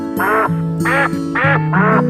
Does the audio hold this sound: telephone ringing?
no